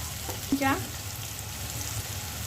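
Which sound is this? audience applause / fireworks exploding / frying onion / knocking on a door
frying onion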